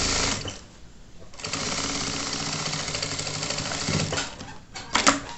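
A sewing machine runs a short securing seam on a child's backpack, fastening the gusset to the lining. Steady rapid stitching whirs for several seconds, pauses briefly, then resumes with a few louder clicks near the end; no talk.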